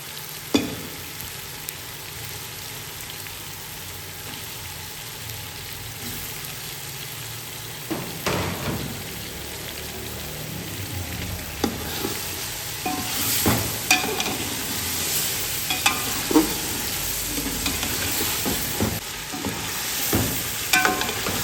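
About a kilogram of chicken sizzles in a pan while being stirred, with a continuous frying hiss and repeated scraping clicks of the spoon growing busier and louder over time.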